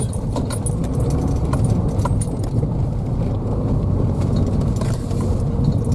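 A car drives off-road over damp ground, with a steady low rumble of engine and tyres and jangling, rattling keys inside the cabin.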